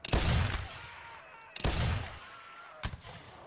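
In the Napoleonic Wars video game, musket volleys boom three times, each a loud crackling burst that rings out and fades, the last one shorter and sharper.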